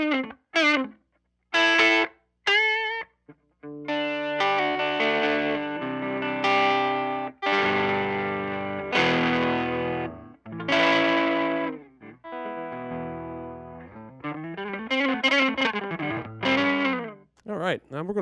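An electric guitar runs through a Catalinbread Dirty Little Secret III distortion pedal at 18V, giving gritty, saturated chords and single-note lines with sustained ringing notes and short pauses between phrases.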